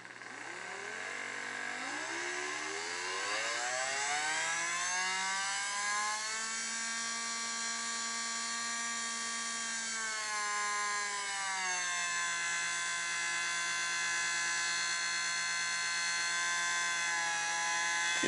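An AC motor running on a split-wave speed controller gives a tonal whine that climbs in pitch over several seconds, then settles into a steady resonant hum, moderate in level and without any voices.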